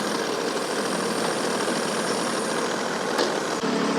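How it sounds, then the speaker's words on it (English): A tractor engine idles steadily while lifting an Ibex TX31 mini hay baler, a dense continuous close drone with a faint clunk near the end and no talking. "I'm gonna lock my park and brake, see what I can do at idle, and then maybe have to rev up the tractor."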